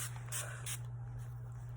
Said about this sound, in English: So the first thing is I like to spray my finishing spray first